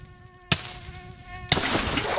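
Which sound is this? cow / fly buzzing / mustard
fly buzzing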